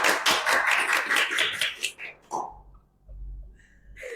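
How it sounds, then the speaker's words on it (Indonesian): Audience clapping at a school talk, a rapid run of hand claps for about two seconds that fades out, followed by quiet and a few faint sounds. "Tepuk tangannya."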